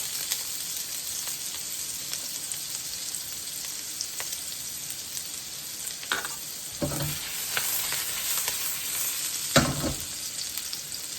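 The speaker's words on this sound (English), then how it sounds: "We're going to throw in our onions. Turn it down just a little bit. We don't want them to fry." Onions and garlic cooking in a pan over turned-down heat for orange chicken, a steady soft sizzle with a few louder bursts of stirring or ingredients hitting the pan, no talking.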